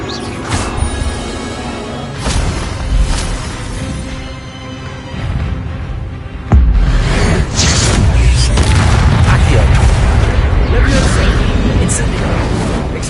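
An Incendio fire spell goes off in Hogwarts Legacy: a heavy thumping blast hits midway and leaves a sustained roar of flame and rumble behind it, with lighter magical clatter before it.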